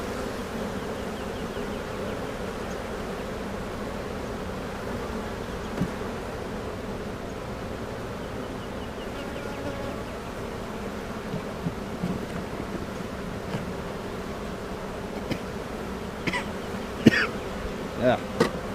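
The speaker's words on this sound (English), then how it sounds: "These bees just don't want to get out of the way." Steady buzzing of many honeybees around a hive hums continuously nearby, with occasional small clicks and knocks toward the end.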